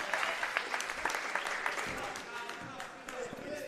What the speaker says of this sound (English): The crowd applauds the hustle on both ends